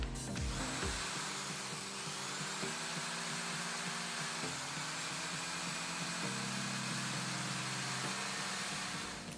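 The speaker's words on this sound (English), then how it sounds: "adding a little pilot hole that goes straight through the outside ring and about halfway through the rod that's underneath" A drill bores a pilot hole straight through the outer ring and partway into the rod beneath it on an M41A rifle replica build, a loud, steady whine held for about nine seconds with small pitch shifts.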